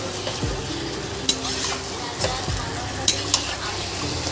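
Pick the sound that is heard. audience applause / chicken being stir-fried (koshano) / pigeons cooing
chicken being stir-fried (koshano)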